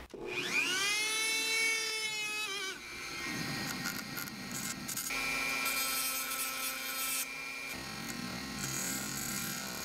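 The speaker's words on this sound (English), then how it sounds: "I'm gonna grind some edges on the outside of this bearing." A power grinder works the outer edges of a hardened steel bearing, starting with a rising whine that settles into a steady, high-pitched grinding drone with shifting tone as the tool bites.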